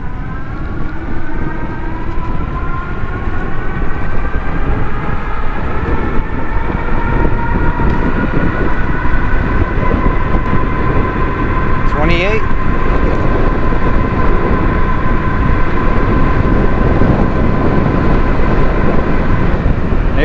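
Euphree City Robin X electric bike accelerating at full throttle on a top speed run, a steady motor whine with rising tonal harmonics over constant wind and road rush, loud and continuous throughout.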